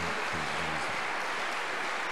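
A church congregation claps together in a steady, sustained round of applause. The sound is dense and fills the room, with a few faint voices underneath.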